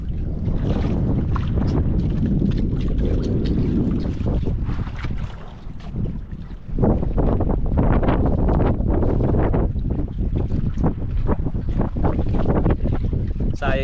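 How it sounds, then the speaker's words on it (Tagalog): Strong wind buffeting a boat at sea, a loud continuous roar with gusty microphone rumble and splashing water, dipping briefly before surging back, with voices talking over it. "Lakas na mga tropa ang hangin."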